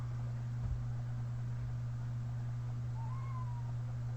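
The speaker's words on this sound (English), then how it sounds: "This cat's driving me crazy." A cat meows faintly in a home kitchen while guacamole is being made, a short drawn-out cry rising over a steady electrical hum, with no talking.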